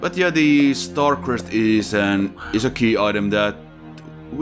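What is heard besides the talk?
None of the usual background noises is heard.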